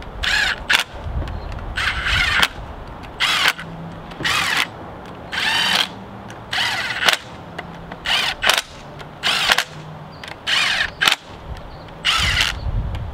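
A power tool with a 13 mm socket snugs the axle cover bolts on a 3rd-generation Dodge Ram 1500. About a dozen loud, close bursts of whirring each last around a second, separated by short pauses.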